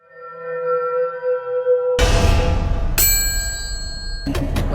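Just TPM move from the Judgment Bird ego gift in a video game: a soft tonal hum gives way to a loud crashing burst, then a bright ringing chime with sustained bell-like tones and a final clattering hit.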